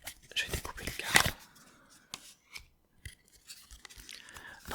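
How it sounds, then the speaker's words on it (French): Scissors snip through cardboard up close in a quiet room, a dense burst of crisp cuts followed by sparse single snips and rustles, with soft speech-like sounds in places. "Je vais découper le carton."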